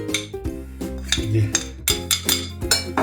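Utensils clink and scrape against a bowl in irregular bursts as hake is mixed by hand with flour, paprika, pepper, fish seasoning and salt, with faint music playing underneath.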